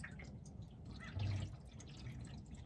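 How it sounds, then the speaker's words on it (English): Coolant pours straight from a bottle into the radiator of a 1968 Dodge Charger without a funnel, making a quiet, trickling liquid sound with a short gurgle partway through. "I don't use a funnel at all to pour coolant."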